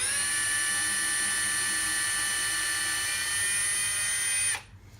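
A high-pitched power drill whines steadily for several seconds up close while drilling slowly into wood, then cuts off abruptly, leaving quiet.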